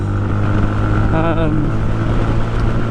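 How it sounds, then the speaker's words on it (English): A Sinnis Outlaw 125cc motorcycle's front brake gives a short high squeal partway through, riding over the loud steady engine drone and wind rush of the ride. "sometimes when you tap the front brake to slow yourself down a bit, you get a bit of a squeal from the front brake"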